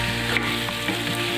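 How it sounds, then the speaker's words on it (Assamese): Chicken pieces frying in a pan, a steady close sizzle that holds level throughout with light stirring scrapes and no voices. "মাংসখিনি এতিয়া অকণমান ভাজি ল'ম।"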